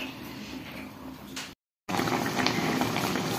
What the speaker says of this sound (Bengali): চুলোর উপরে লাউ রান্না হচ্ছে